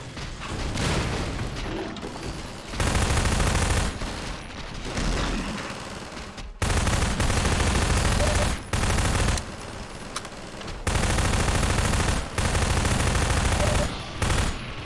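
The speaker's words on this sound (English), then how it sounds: "you can start shooting" Rapid video-game gunfire during a fight with antlions, coming in loud dense bursts of automatic fire with booms and brief quieter gaps between volleys.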